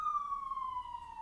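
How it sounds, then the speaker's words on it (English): Police siren passing outside, a single clear wailing tone sliding slowly downward in pitch, moderately faint and heard alone. "nice siren."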